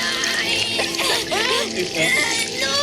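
Water splashing in the animated film Luca as a boy is doused for a bath, a busy wet spray running the whole moment with character voices speaking over it.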